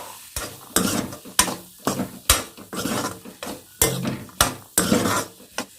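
Boiled potatoes and green peas being stirred into a sizzling masala in a pan for potato peas curry, with repeated scraping strokes of a spoon against the pan over a steady frying hiss.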